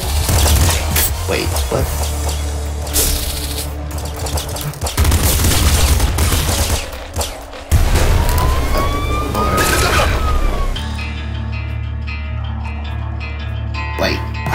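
A fast-firing rifle in the video game Nuclear Throne rattles off dense, rapid bursts amid loud chaotic game effects and a siren-like wail, with a brief spoken remark partway through.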